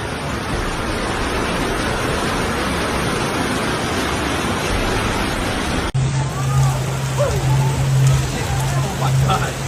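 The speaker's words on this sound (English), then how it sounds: "dumping torrential rain across the state's coastal and inland regions" Torrential cyclone rain pounding the Queensland coast and inland, a dense, loud, continuous hiss of heavy downpour that shifts abruptly partway through to a different rainy scene with a low steady hum.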